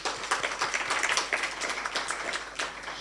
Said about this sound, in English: I think you would give her another round of applause, please